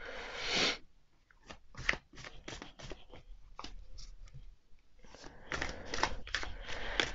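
Someone shuffles a new matte-finish tarot deck, making bursts of crisp riffling card flutters and soft slaps. The sound is close, with short pauses between shuffles.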